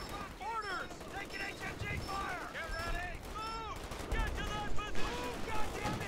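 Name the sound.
machine gun fire in video game Company of Heroes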